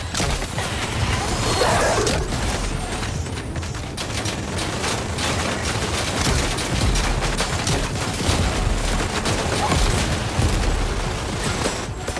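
Gunfire opens up on command, with dense bursts of shots and booming impacts rolling on continuously at loud, close range, with no talking over it.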